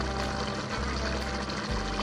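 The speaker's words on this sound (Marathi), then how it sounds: "पाण्यात मी थोडस तेल घालते" Cooking oil pours into a pot of rolling, boiling water for biryani rice. The liquid rushes and bubbles steadily, close and continuous, with no talking.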